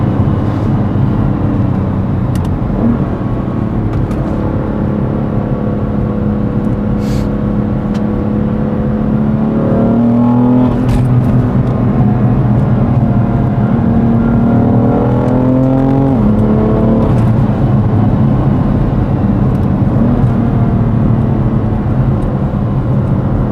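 A BMW F81 M3 Touring with a DCT gearbox accelerates from the cabin, its engine note climbing steadily through two clear rising sweeps over a constant road drone, close and without talk.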